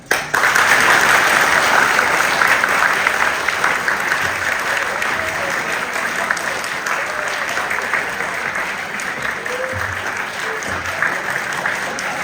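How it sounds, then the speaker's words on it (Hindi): Students at a school event with guests present break into sustained applause, a loud, even roar of many hands clapping that continues unbroken and eases slightly in intensity over its length. "सबसे पहले आप लोग तालियां बजाएं।"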